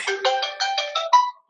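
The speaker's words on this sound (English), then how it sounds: "there's a phone call" A mobile phone ringtone from an incoming call plays a short melodic run of about seven tones during a lecture, clear and alone before cutting off.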